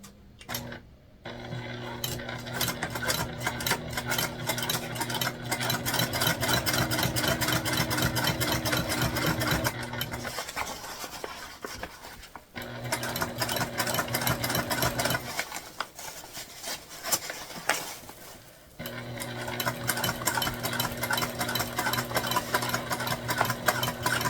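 A domestic sewing machine runs steady seams along a fabric sling at an even seam allowance, a close mechanical hum in long runs broken by short pauses, with no talking.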